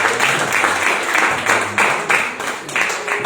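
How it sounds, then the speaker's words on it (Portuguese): A church congregation claps in applause for Jesus, a dense, lively round of clapping that swells in bursts, with faint voices mixed in beneath. "Uma salva de palmas para Jesus."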